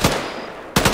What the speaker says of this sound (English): That firing from our right.